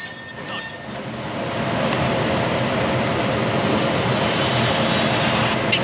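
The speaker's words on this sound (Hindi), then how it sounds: "ये ट्रेन हमारे ठीक सामने रुका है" A train in the WCC3 cricket video game rolls to a halt, a loud steady mechanical rumble with a brief high squeal at the start, then a flat continuous drone.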